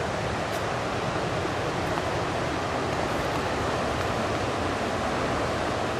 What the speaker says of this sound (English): Look at the rapids.